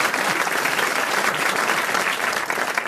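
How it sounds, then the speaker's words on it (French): A studio audience at the French comedy panel show Les Grosses Têtes claps continuously, a full, loud, even round of applause filling the clip with no voices heard. "vous pouvez aller applaudir Julien Lepers sur scène"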